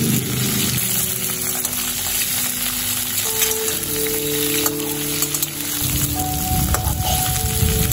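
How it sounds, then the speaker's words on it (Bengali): Potatoes and drumstick pieces frying together in a pan for a Bengali potato-drumstick curry, a loud, steady close sizzle with a crackling hiss throughout, no talk. "আলু আর ডাঁটা দেখুন একসাথে করে খুব ভালো করে ভেজে নিলাম।"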